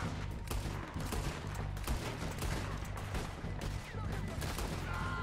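Red Dead Redemption 2 gameplay gunfight with dense, rapid gunshots cracking continuously over a rumbling backdrop, with a voice faintly underneath.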